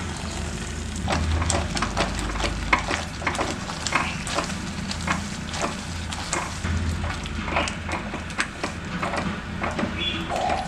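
Jaggery syrup poured into ginger cooking in ghee in a pan, with a bubbling sizzle, repeated scraping and stirring knocks, and a low rumble throughout, no talking.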